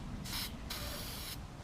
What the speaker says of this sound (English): I'm going to use a little bit copper spray to spray right here